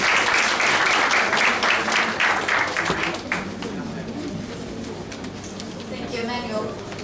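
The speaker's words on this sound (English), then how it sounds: "A round of applause." Audience applause at the All Saints University White Coat Ceremony in Dominica. Brisk clapping fills the first three seconds, then dies away into a quieter hall with faint bird cooing.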